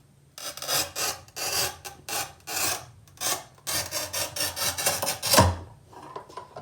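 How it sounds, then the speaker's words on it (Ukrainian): A manual tile cutter, an INTERTOOL HT-0344 400mm, scoring tile: a rough, rasping scrape repeated in short strokes, then a quick snap near the end, close and fairly loud, no voices. "Звук розрізу начебто приємний, коли ще не тупе і відчутно, що воно робить надріз."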